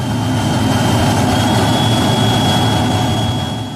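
Steady, loud roar of a Hellenic Air Force F-16 Block 50 jet engine during a straight-in landing, a broad continuous rumble with a thin high whine running through it and no voices.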